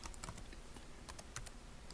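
Fingers typing on a computer keyboard, a quiet run of irregular key clicks with a few louder taps, heard alone without speech.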